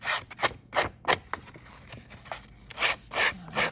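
Emery board nail file rubbed along the edge of a paper card for a Christmas lantern craft, giving repeated short scratchy rasping strokes, close and fairly soft, with no talking.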